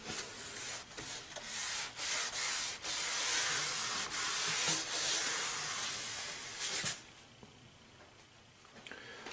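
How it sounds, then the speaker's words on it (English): A cloth wipes dust from baseboard and molding trim in a close, breathy rubbing hiss of repeated strokes that then fades to quieter scuffing; no voices. "finish up by wiping the surfaces with a cloth to get rid"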